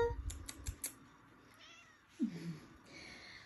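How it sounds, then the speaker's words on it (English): A house cat gives a short meow in a remodeled old farmhouse bedroom, heard near and clear after a few light tapping clicks, with a quiet room tone in the background. "my little kitty Bella, she matches my room."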